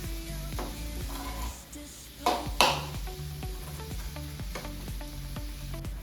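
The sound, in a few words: tomatoes being sautéed in a pan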